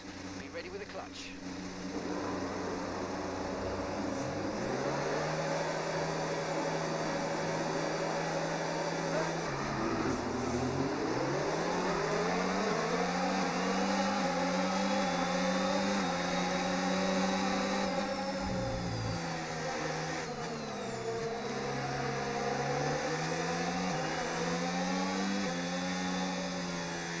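F1 25 race start at the Japan round: a dense, loud roar of engines rising and shifting in pitch as the field accelerates off the grid, sustained without a break and nearby.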